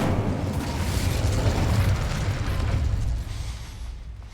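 The Incendio fire spell cast in Hogwarts Legacy on PS5 gives a loud, sustained roaring whoosh of flame with a rumbling low end that fades somewhat toward the end.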